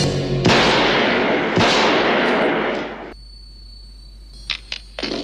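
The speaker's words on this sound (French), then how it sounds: "T'as juste tiré 3 balles, je pense." Gunshots in the video game Halloween 2, with loud, booming blasts at the start and again after a second, each trailing into a long reverberant tail, then quieter and fading, followed by a few short clicks.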